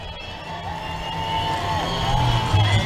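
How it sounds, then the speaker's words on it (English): Crowd at a Trump Make America Great Again rally in Des Moines cheering, a distant, steady wash of voices and whoops that swells slightly near the end, heard faintly under broadcast background noise. "It looks like we're hearing a little bit of a cheer"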